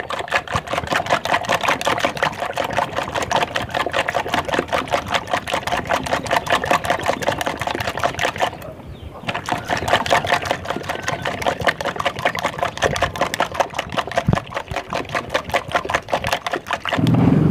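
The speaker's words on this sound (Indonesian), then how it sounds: "Biar berbusa kita aduk dulu." Eggs being whisked until frothy for a rolled omelette, a fast steady rhythmic clatter of the whisk against the bowl that pauses briefly midway and then resumes, close and loud.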